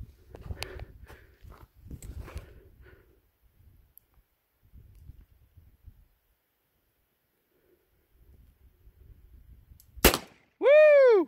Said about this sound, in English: Grandpa's first time shooting this revolver since